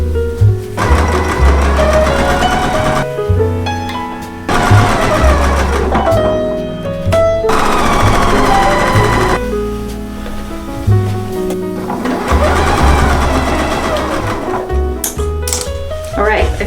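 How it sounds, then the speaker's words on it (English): Sewing machine stitching quilt table runner pieces into a rectangle: bursts of rapid mechanical whirring and clatter separated by brief pauses, with pitched tones layered throughout. "So I'm going to go sew these into their rectangle"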